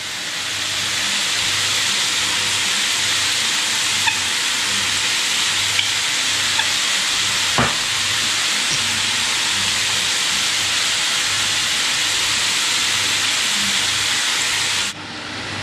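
Food sautéing in a pan for creamy chicken with mushrooms gives off a loud, steady sizzling hiss that runs nearly unbroken and close up, with no talking.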